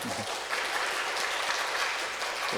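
Church congregation applauding to welcome a guest who stands during a service, a steady, dense wash of clapping from many hands throughout, no talk over it.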